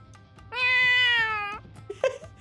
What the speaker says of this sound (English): Like that cat right there.